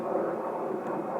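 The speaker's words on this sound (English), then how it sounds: "these airplanes are really low" Low-flying fixed-wing airplanes pass overhead, a steady broad engine roar filling the short moment at fairly close range with no talk over it.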